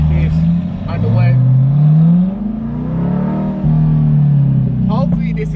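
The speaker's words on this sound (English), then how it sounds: "Hopefully this is picking up the audio of the exhaust" A C8 Corvette with a Corsa Extreme exhaust drones and rumbles up close while driving, rising and falling with the revs, with a voice talking over it in places.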